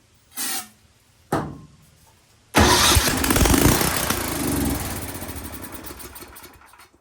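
The engine of an Ariens 1130LET track machine is cranked in two short pulls, followed by a longer sputtering, rough cranking run that fades gradually, close by and without speech.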